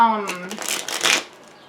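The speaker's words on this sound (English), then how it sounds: "Then I shuffled the deck again" A voice speaks briefly, followed by a quick riffle of a tarot deck being shuffled, crisp and close, trailing off into quiet.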